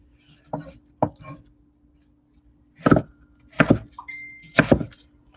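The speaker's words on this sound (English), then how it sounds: "So we're just going to give this a rough chop." Rough chopping of ingredients for a blueberry habanero barbecue sauce: several separate knife thunks on a cutting board in short bursts with pauses between, fairly close and alone with no talk.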